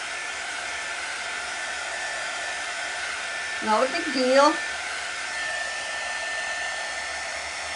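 Handheld hair dryer blowing steadily over a chalk paint transfer during a craft project, a constant whooshing hum throughout with a brief burst of talk in the middle.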